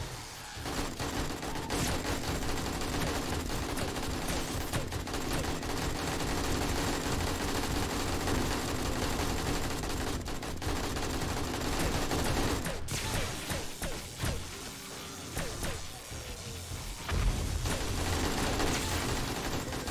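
Sustained automatic gunfire from the survival game 7 Days to Die rattles continuously and loudly, dense volleys running almost without pause, with a brief lull near the middle before the shooting resumes.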